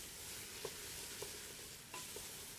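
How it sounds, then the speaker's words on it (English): Onions caramelizing in a hot pan for French onion soup, stirred with a wooden spoon: a quiet, soft sizzle with a few light scrapes and taps, close and low in level, no voices. "The heat in the pan will get it going, but you need to keep those onions stirred"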